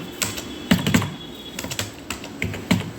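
Fingers tapping out a folder name on a computer keyboard: a quick, uneven run of light key clicks, close and clear over a faint steady room hum, with no speech.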